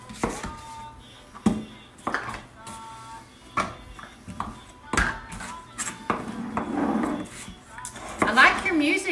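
A knife chopping onions into big chunks on a board in a home kitchen, irregular sharp knocks spaced a second or so apart, mixed with clattering dishes and people talking nearby.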